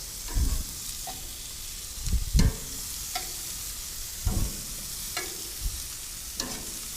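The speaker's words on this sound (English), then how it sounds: "now I want to place our citrus fruits on the barbecue" Citrus fruits set on a barbecue grill beside roasting pork loin, a soft steady sizzle under a few scattered thumps and scrapes as pieces are placed and moved, close with no talking.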